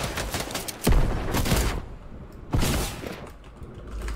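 Video game gunfire in a couple of separate loud bursts of rapid shots, each with a sharp crack and trailing rattle, separated by a short quieter pause.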